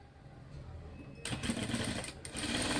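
A sewing machine stitches tucks on a blouse. It starts quiet with a low hum, then a steady, fast, loud whirring run of stitching takes over partway through.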